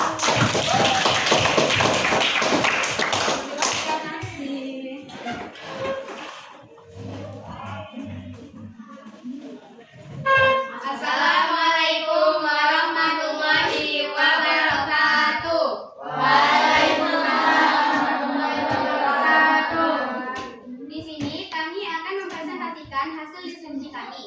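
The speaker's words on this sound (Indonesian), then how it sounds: "Osidon kawan-kawan, boleh tepuk tangan dulu" Audience applause welcoming the first performance of a school drama, with dense clapping at the start that gives way to children speaking and performing for the rest of the clip.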